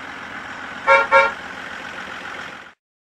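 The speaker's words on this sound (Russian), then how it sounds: "Отлично! Автобус." Cartoon bus horn giving two short honks in quick succession over a steady engine rumble, fairly close and alone with no voices.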